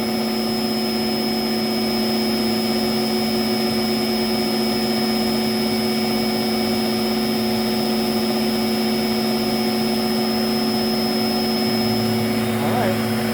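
A Lindhaus Healthcare Pro vacuum cleaner runs steadily during an airflow test, a loud continuous whine and roar with a faint shift near the end.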